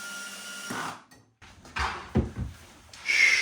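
A wall-mounted cabinet door fitted with clamp storage swings open, giving a couple of close knocks and scraping rubs as it catches on the side, with brief quiet gaps between the bumps.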